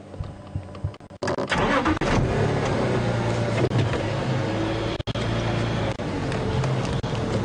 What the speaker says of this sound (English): Just going to move forward a little bit so the other vehicle can also see him.